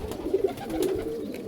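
A high flyer pigeon coos in a few soft, throaty rolls at close range, with faint background hiss and no speech.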